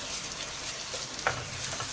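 Halwa roasting in ghee as it is stirred in a pan, a continuous close sizzle with soft scraping from the spoon and one small clack.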